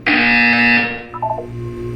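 A loud harsh electronic buzzer in the video game Portal 2 blares for under a second, then cuts off, leaving a few faint tonal blips and a low hum.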